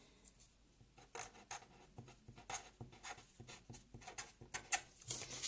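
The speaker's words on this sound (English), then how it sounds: "I'm going to write the word minutes." Marker or chalk scratches across a board as a single word is written, a faint run of short quick strokes and taps in a quiet room.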